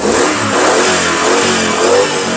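A Jeep Grand Cherokee with a 4.7-litre petrol V8, running without a gas conversion, revs in a steady, loud, continuous roar close by, with no voices over it.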